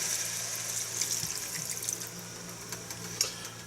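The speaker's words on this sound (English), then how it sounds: "now we're just going to add a cup and a half of water." Water pours into a hot pan of cooked liver and onions, a continuous splashing rush with scattered bubbling and spitting pops, moderately close and fairly quiet, no talking.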